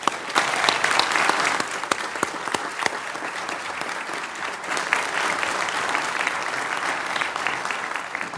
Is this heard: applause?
yes